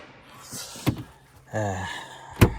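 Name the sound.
freezer door in a travel trailer being closed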